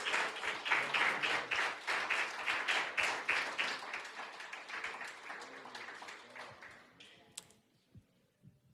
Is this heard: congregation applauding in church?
yes